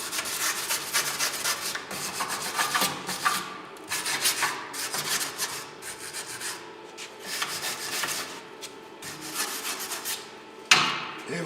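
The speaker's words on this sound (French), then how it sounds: "Un petit coup de brosse." A brush scrubs back and forth across a wooden side table being restored, giving repeated rasping strokes in an uneven rhythm with brief pauses between bursts, close and fairly quiet.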